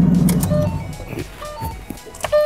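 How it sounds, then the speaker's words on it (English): Key-in-ignition warning chime in a 2012-2013 Ford Mustang Boss 302 with a 5.0L engine: short repeated electronic dings at a steady pace over a low engine rumble and background noise. "Most annoying thing in the world is a key chime."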